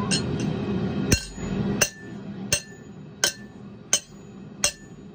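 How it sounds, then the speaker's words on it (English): A hammer strikes a quenched steel piece six times in an attempt to break it, each hit a sharp, ringing metallic clink spaced roughly evenly over a low background hum. "let's see if I can break this piece with the hammer"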